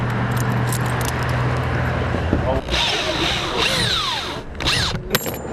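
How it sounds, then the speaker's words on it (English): A screw gun drives screws through plywood and foam board on a roof, giving a steady close whirring and grinding with short bursts and high motor whines, over outdoor background noise. "Let's get the screw gun up here"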